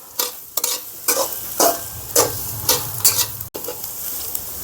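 Spoon stirring an ingredient mixture in a pan over a gas flame: repeated scraping strokes, roughly one every half second, close and clear over a steady low sizzle, no talking.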